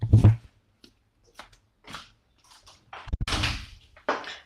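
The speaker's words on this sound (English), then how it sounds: "Let me close this fucking door." A room door pushed shut indoors, giving one loud, close thump at the start, followed by scattered faint knocks and a burst of rustling handling noise near the end, with no talking.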